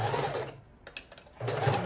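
A sewing machine stitches a fabric file-folder book cover in two short close whirring runs separated by a brief pause.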